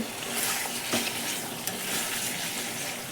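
Bengali curry with cashew and poppy seed paste, oil separating at the edges as water is added to the pan: steady close crackling sizzle with a brief splash-like burst partway through and a few faint scrapes.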